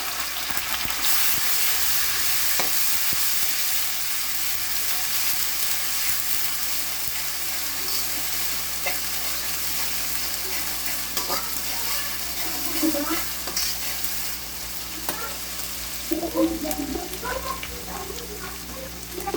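Onion and garlic paste hitting hot oil in a pan for a lentil-style curry, a dense continuous sizzle with some bubbling and stirring clatter that grows busier toward the end.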